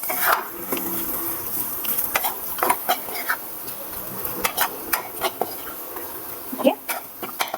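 Masala for misal is stirred and roasted in a pan, with a soft continuous sizzle under repeated scraping and clinking of a spoon against the pan, close and moderately loud.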